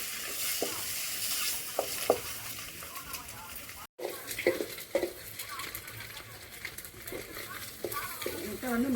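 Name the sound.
stirring chicken masala with eggs in a pan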